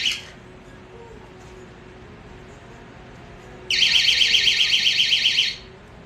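A product's alarm, set off during a pull test, sounds a loud, shrill, rapidly pulsing electronic beep for about two seconds over a quiet background, with a brief chirp at the start.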